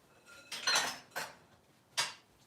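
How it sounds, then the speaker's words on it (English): Metal cutlery and pans clatter in a home kitchen as a spatula is grabbed, three or four separate close clinks and scrapes in a quiet room. "let me use that spatula again. I have a bigger one. I'll grab the bigger one."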